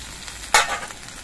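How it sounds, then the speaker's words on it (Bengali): Onions with ginger-garlic paste hit a hot pan, a sudden burst of sizzling that swells and then tapers off within a second, close and fairly loud. "আদা রসুন বাটা দিয়ে আরো কিছুক্ষণ ভেজে নিতে হবে"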